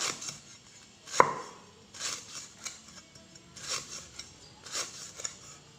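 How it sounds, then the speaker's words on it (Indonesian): A sharp butcher's knife chops on a board while preparing arsik, giving about eight irregular, crisp, close thuds with short pauses between them and no talking. "pisau ini nih pisau tukang jagal, mahal tapi tajam, kuat"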